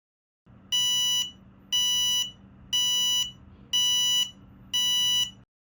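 A buzzer on an EDU PICO board sounds five evenly spaced electronic beeps, each loud and steady at about half a second, with short silent gaps between them, like an appliance's cycle-finished alert.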